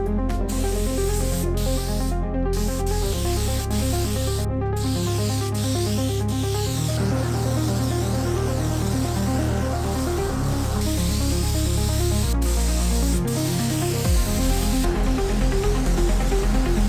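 Spray gun laying clear coat onto a Mazda Miata during a restoration, a steady, unbroken hiss running the whole stretch over a bed of background music.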